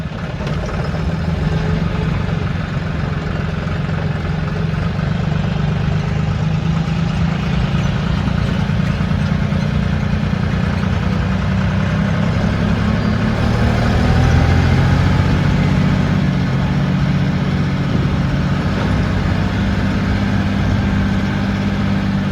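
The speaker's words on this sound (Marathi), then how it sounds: "आता त्या बायपासने आपण ट्रॅक्टर वर चढू" A tractor engine labours up a steep bypass road beside bridge construction, a loud, close, continuous low diesel drone that holds steady and shifts slightly in pitch partway through as the load changes, with no talking.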